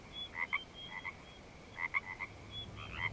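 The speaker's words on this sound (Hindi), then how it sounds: "बाहर से मेंढकों की आवाज आ रही है" Frogs croak outside after rain in short bursts of two or three calls, repeated at intervals over a quiet background hush, moderately near.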